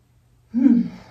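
A single deep, audible breath taken while holding a yoga pose in a gentle osteoporosis-friendly routine, a soft airy exhale that swells and fades over about half a second, close and alone.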